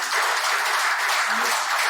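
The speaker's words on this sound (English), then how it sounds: "Please, a round of applause for all of us." An audience at the close of a session on Nigerian labour force statistics gives dense, steady applause that fills the room for a couple of seconds with no voices over it.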